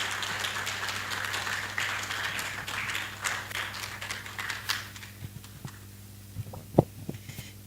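Audience applause at an academic gathering welcoming a chairperson, a dense patter of clapping that fades out over several seconds into a few scattered claps.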